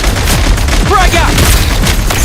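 A frag grenade is thrown and bursts in Genshin Impact's Snezhnaya, a sharp explosive boom amid a dense, loud barrage of gunfire-like blasts and chaotic battle noise.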